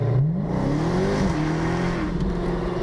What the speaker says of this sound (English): he's got all kinds of snap, crackles, and pops coming out of that exhaust